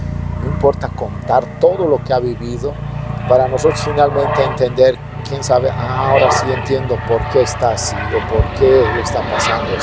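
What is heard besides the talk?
helicopter flying overhead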